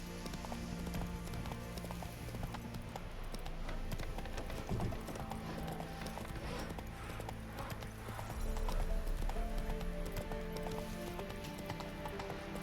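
Roach the horse gallops through Witcher III, hooves clip-clopping steadily and close with a brief whinny, over a continuous bed of game music and ambience, quickening near the end.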